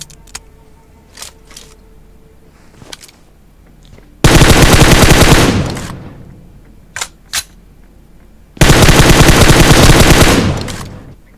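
Automatic gunfire in the mobile battle-royale game PUBG Mobile: two loud, sustained bursts of rapid shots, each lasting about two seconds, separated by scattered single shots and quieter in-game clicks and footsteps.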